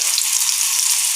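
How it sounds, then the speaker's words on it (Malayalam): Sliced onion sautéing in a hot pan, a steady dense sizzle with no breaks, close and fairly loud for a little over a second. "ആദ്യം ഈ സവാള എടുത്തിട്ട് ഒന്ന് വഴറ്റിയെടുക്കാം."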